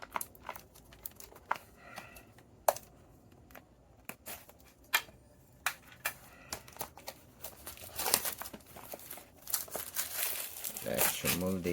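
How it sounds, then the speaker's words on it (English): Plastic cover peeled off a T900 Ultra 2 smartwatch box, with scattered crinkles and sharp tearing clicks that build into a continuous, louder rustling toward the end; a voice talks at times. "Let's remove the plastic cover."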